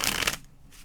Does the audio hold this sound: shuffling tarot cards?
yes